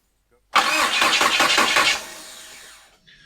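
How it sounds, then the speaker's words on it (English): A Jeep Wrangler project car, newly rewired, cranks and fires up loudly and close by, revving for about a second and a half before settling and fading toward a quieter idle. "we got the engine to spin over, which was a huge win"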